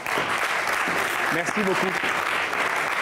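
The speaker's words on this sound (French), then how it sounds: "On vous l'applaudit bien fort, s'il vous plaît." Audience applause at a live stage show, a steady dense clatter of clapping filling the whole moment while a voice speaks over it.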